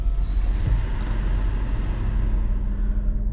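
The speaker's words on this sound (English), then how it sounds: "So let me roll up the windows here, and we'll take it for a drive." Steady low engine and road rumble inside a Mercedes-AMG G-Class SUV on the move, a loud constant drone with a faint hiss above it and no talking.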